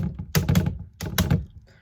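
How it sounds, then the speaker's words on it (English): Typing on a computer keyboard: two short bursts of clattering keystrokes, close and fairly loud, separated by a brief pause, with no speech. "Whenever you hear me in here typing like,"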